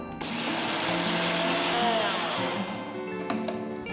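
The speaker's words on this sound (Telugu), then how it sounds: "ఒకసారి వీటిని బాగా మెత్తటి పొడి అయ్యేట్టు రుబ్బాలి" A mixer grinder whirs steadily as it grinds cooled roasted spices into a fine powder, a loud close motor drone with a rattling edge that runs for several seconds before easing off.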